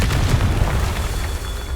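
A Confringo spell explosion in the video game Hogwarts Legacy: a heavy, continuous booming rumble that stays loud and dense throughout, with no talk over it.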